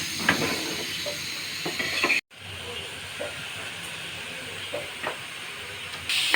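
Grated carrots fry in a pan with sugar, hissing and sizzling steadily, with soft stirring scrapes and a brief cut to silence partway through.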